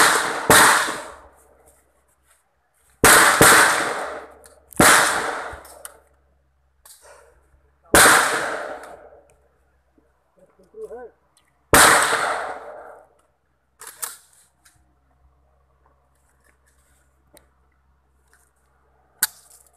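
Firearm shots at a paramilitary firing range, heard as several loud, sharp reports spaced irregularly a few seconds apart, each with a decaying outdoor echo, plus a few fainter distant shots and no talk.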